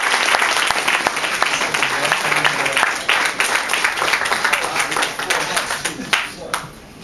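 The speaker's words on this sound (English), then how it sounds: "Give him a round of applause as he makes his way to the stage." Audience applause fills a hip hop summit hall as an EMI label president walks to the stage, a dense steady wash of clapping that holds loud before thinning toward the end, with some voices mixed in.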